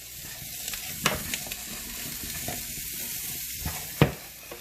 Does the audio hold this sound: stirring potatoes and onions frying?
yes